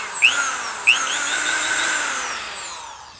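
A power drill bores into the back of an 18th-century locked safe, whining at high pitch, revving up twice before settling into a sustained grinding drone that fades out near the end.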